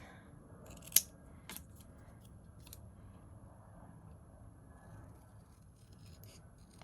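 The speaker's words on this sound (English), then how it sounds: "let me just cut the sentiment." Scissors snip through paper while cutting out a card sentiment for a handmade card, a sharp close cut followed by a second softer snip, then quiet room tone with faint light rubbing.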